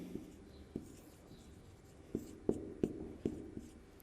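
Chalk or pen writing on a board in a French spelling lesson, faint scratchy strokes and a few sharper taps, quiet and close, no talking.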